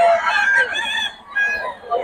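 Several rooster vocalizations close by, loud harmonic clucks and crowing calls repeating in quick succession with no talking.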